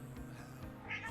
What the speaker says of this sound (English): Do you guys hear some meowing?